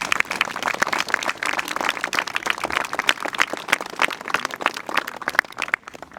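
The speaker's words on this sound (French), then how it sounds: "J'aimerais qu'on l'applaudisse." Audience applauding at a 11 November remembrance ceremony, a dense crackle of many hands clapping steadily and fairly loud, tapering off at the very end.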